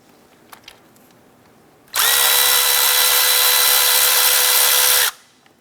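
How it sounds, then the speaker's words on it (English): A power drill or impact driver backs out the last valve cover bolt on a 2007-2012 Nissan Versa, starting after a few faint clicks with a loud, sustained whine that holds steady for about three seconds, then stops abruptly. "we're going to remove the last bolt, and it is the 7th bolt"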